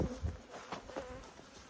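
Wasps drone around hornet traps set between beehives near a buckwheat field, a close, continuous buzzing lasting under two seconds.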